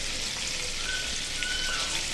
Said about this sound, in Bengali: এদিকে আমি চিংড়িগুলো হালকা তেলে ভেজে নিচ্ছি